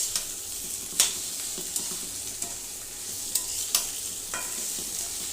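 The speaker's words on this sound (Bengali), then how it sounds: "আর যে পোস্তা ভাজতেছি, পেঁয়াজ দিয়ে দেবো এখন।" Poppy seeds fry with onion in a pan, a steady close sizzle broken by light, occasional spatula taps and scrapes, with no voices.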